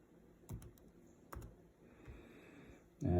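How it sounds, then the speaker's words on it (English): Computer mouse clicks during work in Illustrator, a few sharp, close clicks spaced irregularly over a quiet room tone, ending with a louder rustle at the close. "Wow, a lot of clicking here"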